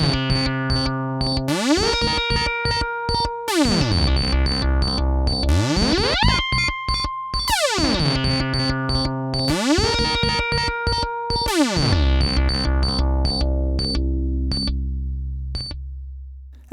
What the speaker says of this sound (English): playing around with the threshold, delay time and gate time settings of the gate delay whilst it modulates the flanger creates some unpredictable results